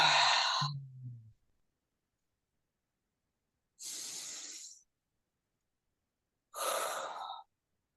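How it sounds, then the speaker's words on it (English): Three slow, deep breaths come close and clear, each a soft airy inhale or exhale separated by silence, the first followed by a low hum of release, with no talk. "So we'll start with 3 deep breaths."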